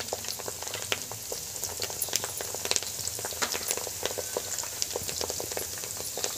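Herbs such as henna, curry leaves, aloe vera and fenugreek sizzle in hot oil being prepared as hair oil, a close, continuous crackle dotted with sharp popping bursts.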